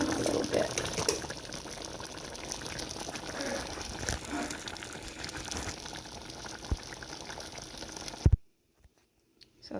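Chicken pot pie filling simmering in a pot on the stove, giving a continuous bubbling, sizzling hiss with occasional clinks, close and moderately quiet, ending abruptly in near silence.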